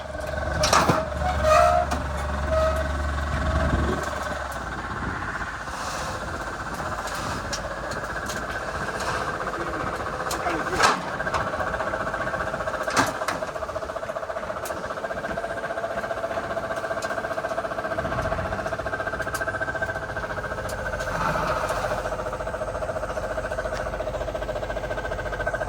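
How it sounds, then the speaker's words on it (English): A Mercedes SL500 engine idles with a steady drone and an odd irregular noise, broken by occasional clicks and knocks over a long stretch, with faint talk now and then. "this is an odd sound coming from this engine"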